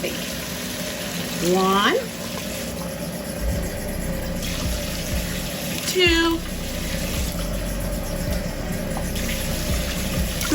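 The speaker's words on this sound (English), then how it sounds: "And I'm going to add in about 8 cups of water." Water streams steadily into an Instant Pot for a Puerto Rican gandules soup, a constant pouring rush with a voice counting over it and squeaky tonal sweeps at two points.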